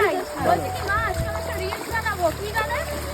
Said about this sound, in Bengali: চলো দেখো জলের মধ্যে দিয়ে হেঁটে হেঁটে যাচ্ছি।